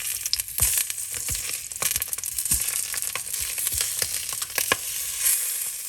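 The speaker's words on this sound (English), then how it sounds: "First of all, let's saute our sausages." Sausages sautéing in a pan for a spicy red lentil and sausage hotpot, crackling sizzle broken by repeated sharp pops and spatters, close up with no voices.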